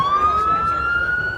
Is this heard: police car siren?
yes